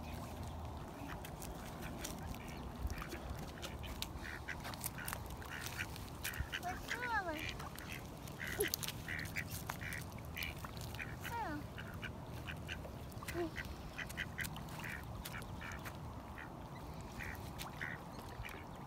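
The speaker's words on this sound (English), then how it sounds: "That's a duck." Ducks quacking outdoors: scattered short quacks, some near and some farther off, over a steady bed of wind and background noise, with voices talking quietly under them.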